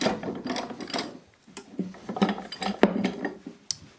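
Metal 3/4-inch pipe clamp rails dropped one after another into a wooden glue-up clamp rack, giving several close, sharp knocks and clanks with rattling in between.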